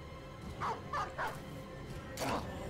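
A dog in the video game Battle Brothers barks and yips in a quick series of sharp calls, with a final louder bark, over constant game ambience.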